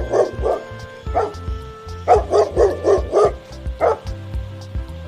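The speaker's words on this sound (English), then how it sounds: "D for dog." A dog barks in a quick run of sharp yips and woofs, about eight close, loud barks over a rhythmic musical backing.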